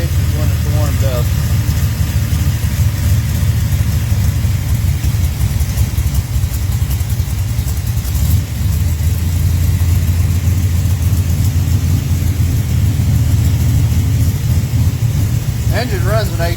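A Pontiac 400 stroker V8 on pump gas idles with a deep, lumpy, steady rumble throughout, loud and close, with occasional faint background sounds.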